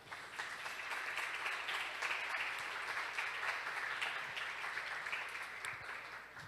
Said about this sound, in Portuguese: Você pode uma salva de palmas para Jesus?